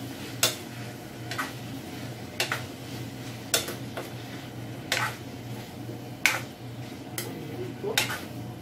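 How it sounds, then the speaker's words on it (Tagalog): Spicy adobo chicken feet being stirred in a pan, a utensil knocking sharply against the pan about once a second over a steady sizzling hiss. "haluin na po muli natin siya"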